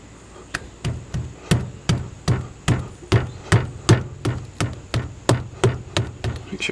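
A clamp on a Duramax diesel exhaust is tightened with a ratcheting tool, producing a loud, regular series of sharp clicks repeating about twice a second, heard alone.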